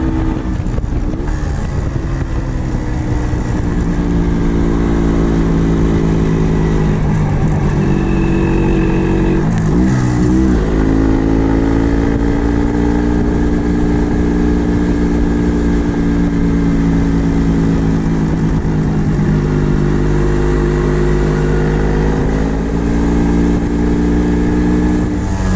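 An MZ TS 250/1 two-stroke vintage motorcycle pulls uphill in third and fourth gear, its engine buzzing steadily and loudly with a rising and falling drone and a brief gear change midway, heard from the rider's position without talk.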